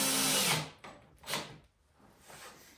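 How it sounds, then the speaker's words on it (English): Power drill driving 1-inch drywall screws into wood for a circular saw guide, heard as a few short whirring bursts close by, each rising then stopping, with no talk. "Now I'm just using 1 inch drywall screws here"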